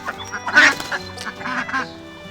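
Ducks quack in a new outdoor duck area within a food forest, several loud, close, raspy calls overlapping in a short burst with no talking.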